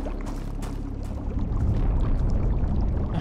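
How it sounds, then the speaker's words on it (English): Water gurgles and pours in a dark subway tunnel in the game Ashes 2063, a low rumbling, splashing flow that grows slightly louder and heavier toward the end. "The hell is that water babbling?"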